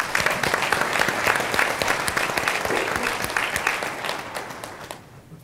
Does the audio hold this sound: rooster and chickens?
no